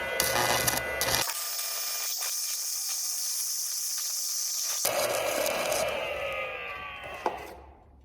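Steady, harsh electric arc hiss and crackle from a cheap stick welder runs for several seconds between bursts of louder, rougher clattering noise, then the sound tapers off as the welder trips the breaker.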